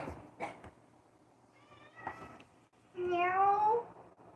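A cat meows repeatedly after being let out of a bathroom, a loud, drawn-out series of rising cries near the end, following quieter, fainter earlier meows over a low room hum.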